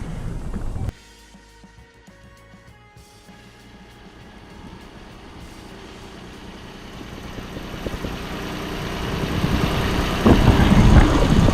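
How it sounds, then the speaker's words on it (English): A mini tractor engine runs on a smallholding with a steady, rumbling drone that starts quietly after a brief louder burst and grows gradually louder and nearer throughout, with no talking. "the noise of the mini tractor will drown my audio out."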